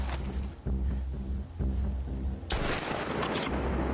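Gunfire in The Last of Us Part II comes as a dense, loud burst of shots. Several heavy blasts land early, then a rapid fusillade crackles in from about halfway through.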